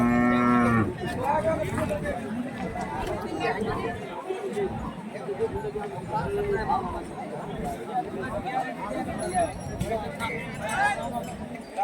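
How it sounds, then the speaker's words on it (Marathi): Buffalo lowing at a busy buffalo market in Hirapur, with repeated moos rising from a constant crowd of chatter and voices throughout. "असा यो पूर्ण जे आहे म्हशीचा बाजार आहे"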